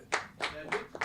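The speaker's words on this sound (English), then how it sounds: "You need to clap up for her." Several loud, close hand claps in a slow, uneven rhythm, roughly four distinct claps within about a second, with a voice speaking around them.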